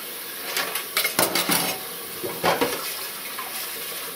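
Running water splashes in a sink while dishes washed with dry mustard powder clink and clatter in bursts, with brief pauses between handling sounds.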